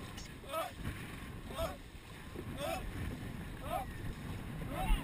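Dragon boat crew paddling hard in a race, with rhythmic strokes about once per second splashing through the water over steady wind and ambient noise, while people shout and talk.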